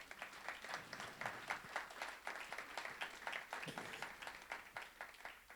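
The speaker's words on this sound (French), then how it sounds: "On peut l'applaudir." Audience clapping for playwright Michel Tremblay at a theatre premiere in Ottawa, a fairly quiet, steady patter of many hands that carries on throughout.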